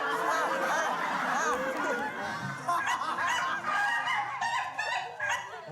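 A rooster crows over a busy chorus of other poultry, with honks and clucks overlapping loudly throughout, close and continuous.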